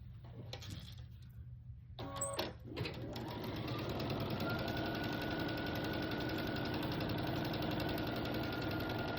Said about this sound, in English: I'm going to sew this right sides together along this edge.